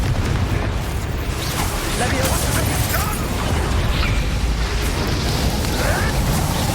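A Confringo spell explosion in Hogwarts Legacy during a dragon fight: a loud, sustained roaring blast with rumbling, dense combat noise throughout.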